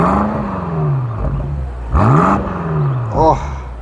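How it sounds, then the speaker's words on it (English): A BMW XM G09 SUV engine is blipped in several short revs, each rising and falling pitch sweep sharp and loud up close, the last blip quicker with a crackle. "give it a little bit of a rev"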